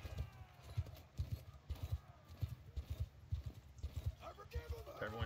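Horse hooves pound in a steady galloping rhythm in the Mount & Blade II: Bannerlord video game, close and continuous, with battle noise and a brief whinny-like call near the end.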